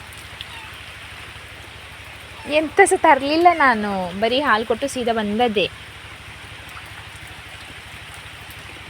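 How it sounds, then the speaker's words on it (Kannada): Steady rain falls throughout, a soft continuous hiss under a stretch of conversational speech in the middle. "ಮಳೆ ಬರ್ತಾ ಉಂಟು ಅಂತ"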